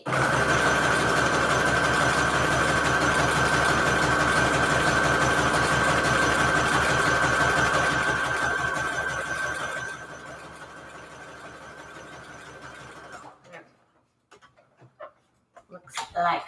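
A sewing machine stitches glitter paper strips with a steady, loud, close motor whir and rapid needle chatter, running continuously before slowing and stopping, followed by a few faint handling knocks and rustles.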